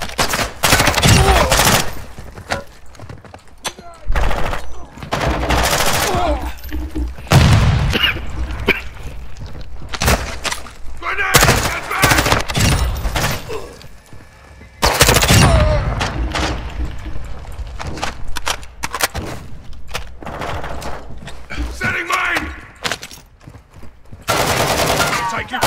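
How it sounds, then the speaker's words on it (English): Heavy gunfire in a Call of Duty mortar strike mission, loud and nearly continuous with dense machine-gun bursts and single shots. The firing swells and dips in waves, with brief lulls between long stretches. "I'm taking fire."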